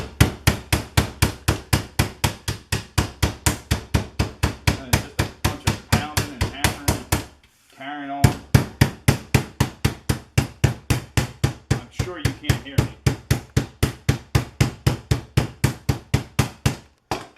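Rapid steady pounding thuds of chicken being flattened in a bag, dozens of repeated blows in a fast rhythm with a brief pause midway, while someone talks over them.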